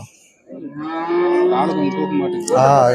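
A cow in its third calving gives a long, loud, close moo that rises again near the end.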